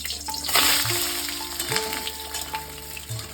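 Potato pieces hitting hot mustard oil in a pan, with a close, bright sizzle and crackle, short bursts of spatter and a few light clatters of a spoon or utensil, and no voices.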